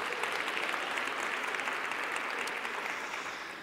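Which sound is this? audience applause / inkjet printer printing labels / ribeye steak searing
audience applause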